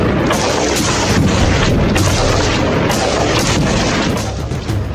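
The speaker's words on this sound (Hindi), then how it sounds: "दूसरी तरफ से गोलियां चल रही हैं और लगातार चल रही हैं" Sustained gunfire exchange in Balochistan, Pakistan, with Pakistani soldiers under fire, heard as a dense, loud, continuous roar of shots and booms that barely lets up over five seconds.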